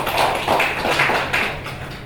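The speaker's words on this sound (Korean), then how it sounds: "이명태 의원 박수 맞이해 주세요." Applause from an audience at a civic environmental forum in Iksan, welcoming a lawmaker to the stage: a steady, fairly loud wash of clapping lasting about two seconds, with no talk over it.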